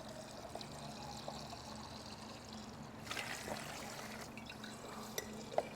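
Water draining out of a 1983 Kawasaki GPz1100 motorcycle engine, a faint continuous trickle and pour with a brief louder splash midway.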